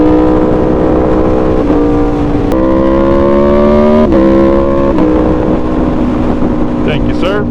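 An Aprilia Tuono V4 motorcycle with a 65-degree V4 engine is ridden, its loud, close, steady engine drone rising in pitch and then dropping at each gear change.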